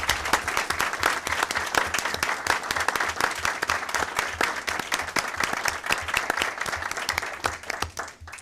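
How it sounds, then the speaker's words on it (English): An audience at a Maryland State Board of Education meeting applauds, a sustained even spread of many hands clapping at a moderate distance that holds for several seconds and tapers near the end. "Round of applause."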